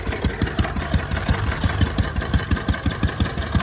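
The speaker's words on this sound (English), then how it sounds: "It almost sounds like a hit and miss the way it could be." An antique engine chugs steadily nearby with fast, regular thumping beats and a slightly uneven, popping hit-and-miss rhythm, running on its own without any voices.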